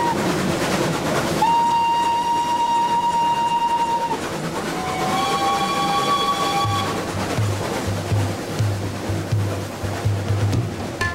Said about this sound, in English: Jinnah took the train from Delhi.